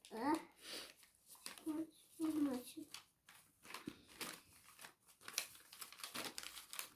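A crinkly snack package is torn and opened at close range with quick rustling and crumpling bursts, while a child and an adult talk over it.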